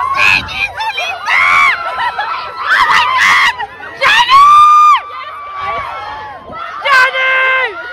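A woman fan shrieks at celebrities arriving at the VMAs: repeated high, piercing screams in loud, excited bursts with short gaps between them, alongside other raised voices.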